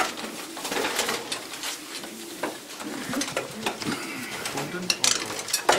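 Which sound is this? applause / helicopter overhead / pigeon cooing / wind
pigeon cooing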